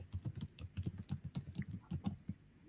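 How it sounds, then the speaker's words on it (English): Fingers clatter across a computer keyboard in rapid, irregular bursts of sharp clicks. The keystrokes are close and fairly loud, with no voices. "Can you make more noise on a keyboard?"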